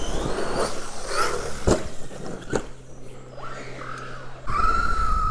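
An Associated Rival MT8 RC monster truck with a Reedy electric motor whines and revs in short bursts, its pitch rising and falling, then settles into a loud, steady high whine near the end.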